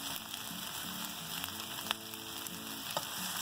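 Cloves and cinnamon sautéing lightly in a pan, a steady close sizzle and crackle of spices frying in oil with a few small pops and faint stirring, no voices.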